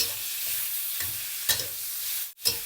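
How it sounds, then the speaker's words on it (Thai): Pork seasoned with soy sauce and starch stir-fries in a pan for a sweet and sour dish, a quiet steady sizzle broken by a few sharp spatula scrapes and a brief gap. "ผัดได้พอหมูสุก พอหมูเริ่มสุก ใส่หอมหัวใหญ่ลงไปครับ"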